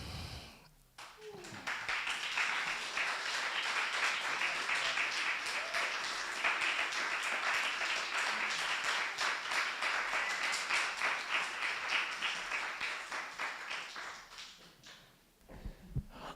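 An audience at a book fair reading event applauds a performer, a long sustained round of dense clapping and cheering that swells quickly, holds steady, then tapers off near the end.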